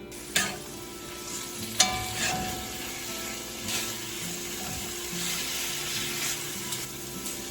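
Beef sizzles and fries steadily in a pan over medium-high heat, a continuous crackling hiss punctuated by a few sharper stirring clanks near the start.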